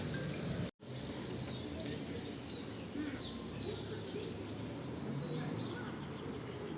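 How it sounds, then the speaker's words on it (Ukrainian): Birds chirp and sing on a street in Albania, fairly faint and scattered, over a constant low background hum with a short dropout early on. "пташки якісь співають, що раніше мовчали"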